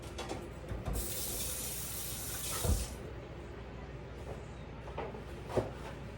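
Tap water runs steadily into a sink while a pot that held peas and potatoes is rinsed, a close continuous splash with a few louder sloshes and clunks.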